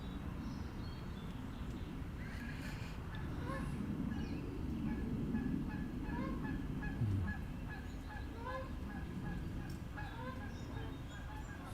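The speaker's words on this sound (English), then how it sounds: "Low-flying geese" Low-flying geese honk repeatedly in a loose chorus of overlapping calls over a steady rushing background, moderately distant and soft.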